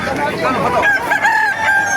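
A gamecock crows loudly and close by at a chicken market in Baliuag, Bulacan, its drawn-out call rising and holding, with background chatter and crowd noise around it.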